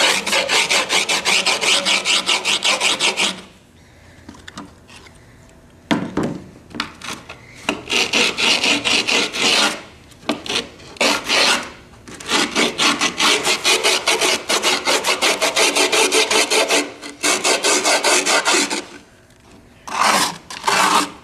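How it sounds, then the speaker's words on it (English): A screwdriver rubs hard along the edge of skateboard grip tape in long, loud rasping scrapes, broken by brief pauses and a few short strokes. "you got to take your screwdriver and start rubbing away at the board"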